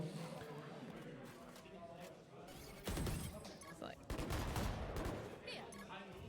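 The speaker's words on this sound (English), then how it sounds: "Some early shots there into Smile, down to 38 HP." Gunfire in a competitive Valorant esports match, rapid bursts of shots and sharp cracks layered in dense game sound, with a commentator talking over the action throughout.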